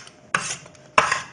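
Kitchen knife from a beechwood knife block chopping on a board, two sharp distinct impacts with a brief scraping tail, close and fairly loud, no talk.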